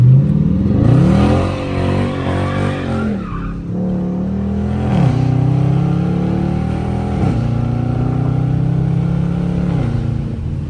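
A Dodge Charger RT's engine revs hard in first gear through a drifting U-turn, loud and close, its note rising and dipping while the tires squeal and skid throughout.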